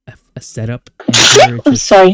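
A single sharp human sneeze bursts out loud and close amid short bits of talk.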